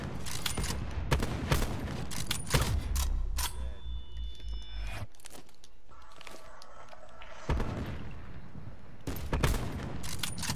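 Rapid gunfire from a player shooting in a first-person video game, with loud bursts of shots at the start and end and quieter intermittent shots and clicks in between.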